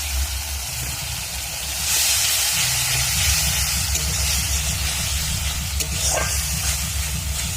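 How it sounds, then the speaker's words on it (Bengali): Water poured into hot fried masala bursts into a loud, steady steaming hiss that swells after a couple of seconds and carries on, with a low rumbling bubbling underneath and a brief clink near the end. "এবার আমি দিয়ে দেবো এর মধ্যে সামান্য পরিমাণ জল।"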